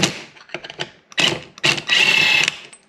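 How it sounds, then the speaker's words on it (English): A rattle gun spins off the gearbox gear nut on a Morris Mini 850, the gear held by a wedged screwdriver: short mechanical bursts, then a longer sustained loud whirring rattle close by, with no talking. "just send it with the rattle gun"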